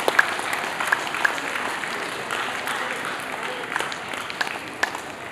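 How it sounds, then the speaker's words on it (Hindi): Audience clapping at an Independence Day flag-hoisting ceremony, a steady wash of hand claps with a few sharper claps standing out, fairly close and continuous throughout. "तालियां बजाने में संकोच ना किया।"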